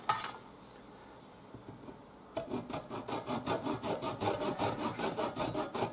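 A small part of a Lunokhod model is sawn by hand, a rapid run of rhythmic back-and-forth rasping strokes starting after a quiet pause, close and even.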